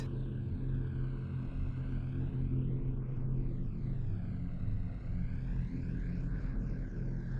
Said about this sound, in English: the first layer in this group is my pad, and it sounds a bit like this